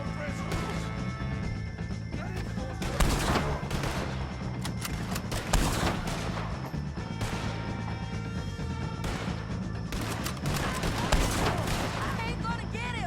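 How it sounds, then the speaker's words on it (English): A Red Dead Redemption 2 shootout with O'Driscolls brings dense, rapid gunfire in overlapping volleys that keep on without a break, with shouting voices mixed in. "If you can hear me, shoot some of these O'Driscolls!"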